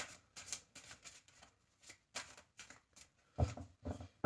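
Tarot cards being shuffled for a three-card reading, giving a series of soft papery riffles and flicks in quick irregular bursts, close and fairly quiet, with no talking.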